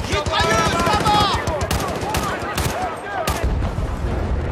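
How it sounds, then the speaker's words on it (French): Machine-gun fire in Battlefield Bad Company 2, during an infiltration mission at the Russian border, comes in sharp bursts and scattered shots under a voice talking throughout. "Mitrailleuse dans la maison! Mitrailleuse, là-bas!"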